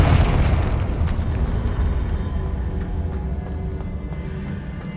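A Confringo fire spell explodes in the Hogwarts Legacy video game, a loud, close, deep rumbling blast that slowly fades over several seconds.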